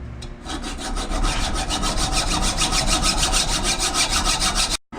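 A hand saw cuts through a suspension strut clamped in a vise for a 2006–2011 Honda Civic Si Koni Yellow build, rapid rhythmic rasping strokes, loud and close, ending abruptly.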